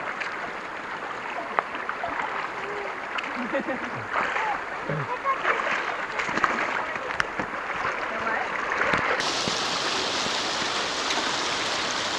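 Rushing creek water flows continuously on a hike through the Narrows, with occasional sloshing splashes as someone wades through it and people talking now and then.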